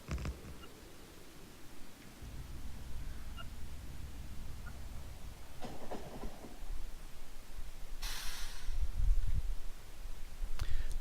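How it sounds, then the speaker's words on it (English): In the video game Factorio, an artillery train rolls past with a low steady rumble and faint rail clatter, building gradually in loudness, with a few brief sharp clicks and a burst of hiss on top and no talking. "Now at least I'm out of the way of the artillery train."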